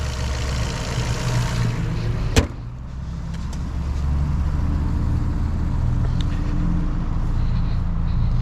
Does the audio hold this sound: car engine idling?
yes